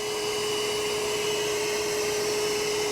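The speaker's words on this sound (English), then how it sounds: "take my heat gun, which I have here, put it on low" A heat gun set to low runs steadily while warming a car headlight assembly to clear moisture, giving a constant, even airy whoosh with a faint high whine and no breaks or talk.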